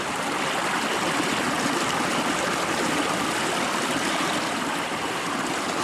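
Water rinses steadily down a gold classification plate, a constant close rushing wash with no breaks and no voices.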